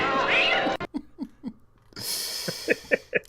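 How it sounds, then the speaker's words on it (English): Several short, sharp meows from a cat in a movie scene come in quick succession after a stretch of breathy noise, close and fairly loud over a hissing background. "A cat!"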